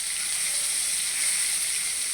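Onion and garlic paste frying in hot oil in a pan for a country chicken and potato curry, giving a steady, close, even sizzle and hiss throughout with no talking.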